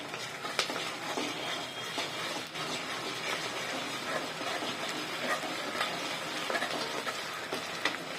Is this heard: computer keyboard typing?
no